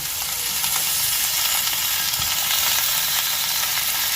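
Chicken pieces fry alongside half-sautéed onions in a pan, giving a dense, continuous close sizzle with faint stirring underneath, steady in level and free of speech.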